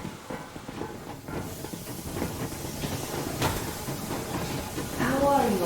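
A steam train setting off in the Metro Exodus video game, steady hissing steam and rumbling mechanical noise with a short whistle-like tone near the end, with voices in the mix.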